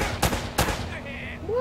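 Two sharp gunshots from a firefight in the action game Uncharted: Drake's Fortune, loud and close, about a third of a second apart, with game ambience and a short whooshing effect afterward.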